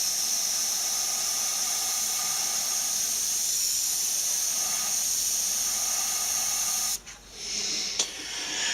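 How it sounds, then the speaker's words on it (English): An airbrush gun sprays paint onto a stencil in a continuous loud close hiss that runs for several seconds, then cuts off with a few brief bursts afterward. "you want to hit your stencil about right here with your airbrush gun"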